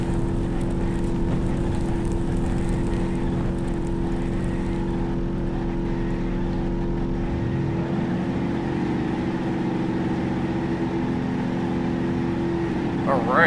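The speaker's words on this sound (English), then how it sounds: "that was a lot of engine revving." Several cars in a BeamNG demolition-derby chase rev their engines at full throttle, a loud, steady layered drone of overlapping engine tones that shifts pitch partway through.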